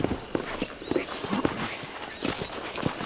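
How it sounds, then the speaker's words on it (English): A horse's hooves clip-clop in a steady walking rhythm while it is ridden in Red Dead Redemption, the hoofbeats close and fairly soft. "let's see if you can still ride a horse."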